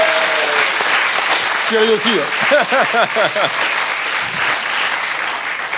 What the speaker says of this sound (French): Ça peut s'applaudir très très fort.